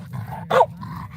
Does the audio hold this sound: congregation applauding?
no